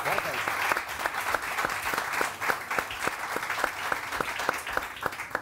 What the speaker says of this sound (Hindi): ज़फ़र के लिए बहुत सारी तालियां